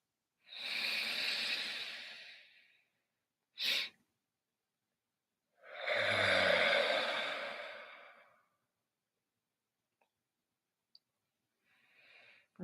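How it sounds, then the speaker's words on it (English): Deep yoga breathing exercise: long, loud, forceful breaths close to the microphone, with a short sharp sniff between them and a quieter breath trailing at the end. "This type of breath allows you to reset the alveoli in your lungs, give you better oxygenation and respiration overall."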